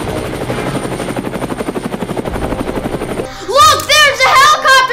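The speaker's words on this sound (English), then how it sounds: "Look, there's a helicopter!" A helicopter in a Godzilla game thumps with fast, rhythmic rotor chops, loud and close, before a burst of wailing, warbling effects and voices cuts over it near the end.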